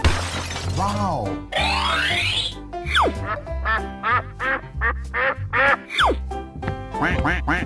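A cartoon duck in a 3D animal slide video game quacks again and again in rapid, bouncy bursts, mixed with springy boings and glassy shattering effects, loud and up front.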